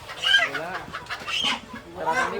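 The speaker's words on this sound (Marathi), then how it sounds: "आणि कैलास भावाने आपल्याला साठी कोंबड्या कापायला घेतला आहे" Chickens at a meat shop, about to be slaughtered, cluck and squawk close by, several short agitated calls over about two seconds.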